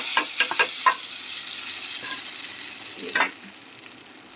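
Dal tadka with onion, green chili and cumin sizzles in hot oil with a steady crackling hiss, close by, broken by a few sharp pops at the start and a brief burst of stirring.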